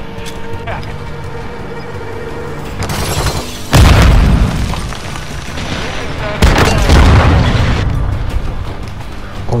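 A grenade detonates in Call of Duty: Modern Warfare II multiplayer, a loud, close boom followed by a second heavy blast over the game's background noise.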